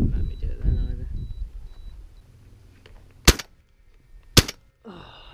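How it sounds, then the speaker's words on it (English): Two sharp shotgun blasts, roughly a second apart, are fired at a flying pigeon during summer pest control, each a loud crack with a short tail, following muffled talk and ending with a voice. "Tom just drilled the pigeon that was motoring"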